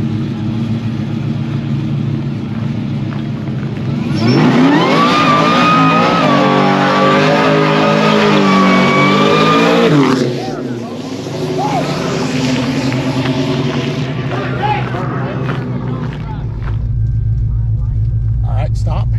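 A Chevrolet Chevelle engine revs up hard and holds high, then drops back to idle, with people talking over the engine noise.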